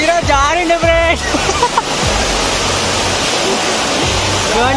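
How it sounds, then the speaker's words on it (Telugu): Raikal waterfall roaring as a steady, loud broadband rush of falling water, with people talking and calling out over it at the start. "చూడండి ఫ్రెండ్స్ చాలా బాగుంది వాటర్ ఫాల్స్"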